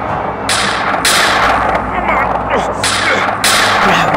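Shotgun blasts from a video game, several loud broadband bursts in irregular succession over continuous busy game noise, with a player's voice talking at times.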